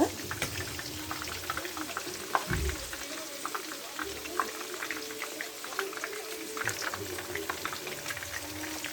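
Mutton leg pieces sizzle and crackle steadily in hot oil, a soft continuous frying hiss with occasional pops and a stir or clatter, no talking.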